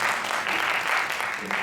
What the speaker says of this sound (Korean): 박수 한 번 더.